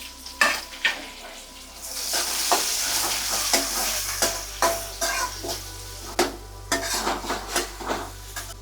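Two medium onions, thinly sliced, hit a hot pan and sizzle steadily while a spoon stirs and clinks against the metal in repeated close strokes, no talking.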